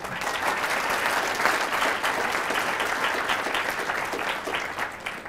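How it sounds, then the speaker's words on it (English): A YAF event audience applauds steadily throughout, a dense, continuous clapping wash at moderate loudness with no pauses. "So let's have a round of applause for YAF, please."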